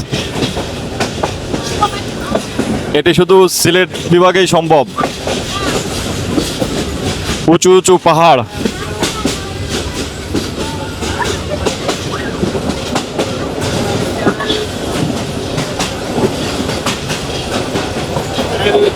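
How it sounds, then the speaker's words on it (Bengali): The Joyantika Express train rumbles steadily along the tracks past hills toward Sreemangal station, with a constant clatter and rush, while a voice talks over it for part of the time. "আমাদের ট্রেনটি খুব দুর্দান্ত গতি নিয়ে ছুটে চলেছে শ্রীমঙ্গল রেলওয়ে স্টেশনের উদ্দেশ্যে"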